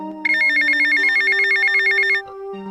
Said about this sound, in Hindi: तभी उसके मोबाइल पर एक कॉल आता है।